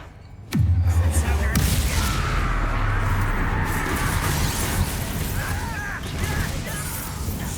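A Confringo fire spell bursts in Hogwarts Legacy, one sharp loud blast followed by a low rumbling roar that carries on under a busy combat din, with faint voices in the background.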